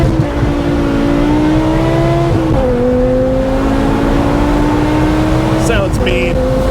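BMW M6 V10 with an F1-style exhaust and the rear mufflers removed, revving in close range with rising and falling engine tones, the pitch climbing steadily between blips, loud and raspy with voices talking over it.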